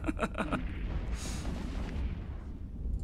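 A full volley of spaceship weapons fires in EVE Online, a quick cluster of sharp pops up front, then a rushing burst and a low, rumbling decay.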